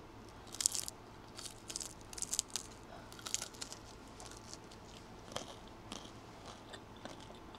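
Crunchy fried lumpiang shanghai spring roll bitten and chewed close to the mic, a run of sharp crackling crunches that tapers into quieter chewing, with no talking.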